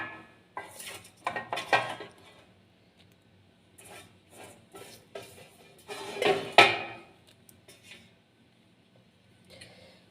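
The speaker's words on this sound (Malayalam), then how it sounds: "ഇത് നമുക്ക് നന്നായിട്ട് ഇളക്കി യോജിപ്പിച്ച് കൊടുക്കാം" Mango pieces and salt being stirred together in a pot, heard as intermittent clinks and scrapes of a utensil against the vessel in two main bursts with quiet gaps between.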